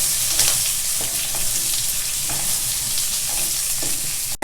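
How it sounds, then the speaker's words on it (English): Sliced onion, green chilli and curry leaves sauté in a pan with a steady broadband sizzle and intermittent stirring scrapes, loud and continuous throughout with no talking. "Just saute this a little bit."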